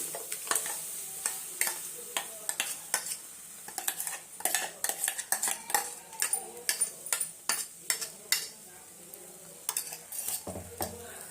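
Thick ground paste stirred into simmering lentils in a pot for prawn curry, with repeated sharp clinks and scrapes of a metal spoon against the pot over a soft bubbling background.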